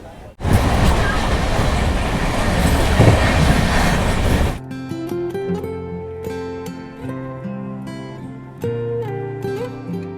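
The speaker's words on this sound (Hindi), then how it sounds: "चलिए फिलहाल अपनी ट्रेन सुगौली से भी निकल चुकी है।" A Mithila Express passenger train rolls along from Raxaul toward Howrah, heard from inside a crowded general coach: loud rumbling wheel noise for several seconds, then a quieter stretch where music plays over the fainter hum of the moving carriage.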